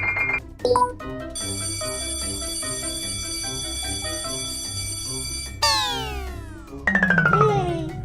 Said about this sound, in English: Outside, Daddy Pig presses the doorbell again.